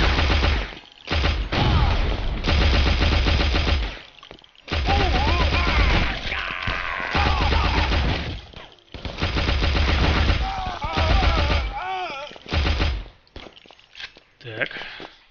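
Machine gun fire in the Guns, Gore and Cannoli video game, loud rattling bursts repeating in rapid volleys with short gaps, with someone talking and exclaiming over and between them.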